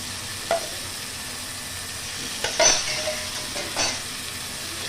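Marinated mutton sizzles in a hot pan for a Bengali-style mutton curry, a continuous close frying hiss broken by a few sharp stirring scrapes and spatters.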